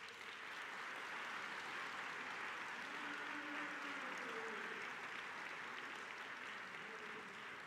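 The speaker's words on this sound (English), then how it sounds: "you all deserve a big round of applause" Steady applause from an audience gathered in a building atrium at a disability awareness event, a continuous wash of clapping heard from some distance, fairly faint and even throughout.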